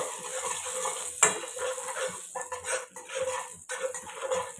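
A spoon stirs a spice mix through a hot frying pan for a veggie Jammu-style rajma, giving close scraping and soft sizzling, with one sharp metallic clink near the start.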